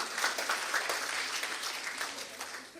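Congregation at an Indonesian church service clapping together, a continuous, moderately quiet patter of many hands filling the room at an even level throughout.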